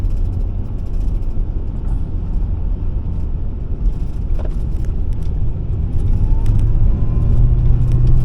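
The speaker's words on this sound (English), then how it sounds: "Power steering pump's still making some noise, but so far it hasn't given us any grief at all." A van with a noisy power steering pump drives along a highway, its road rumble and engine noise steady and close throughout, with faint whine and tire hum underneath and no talking.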